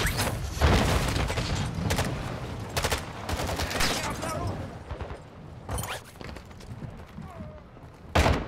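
Gunfire in Call of Duty MWII DMZ, where a rapid run of shots gives way to scattered single cracks and booms amid creaks, with voices talking over the action throughout.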